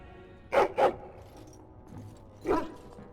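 Dog barks from the video game Dragon Age: Origins: two quick barks close together, then a single bark about two seconds later, loud and near over quiet game ambience.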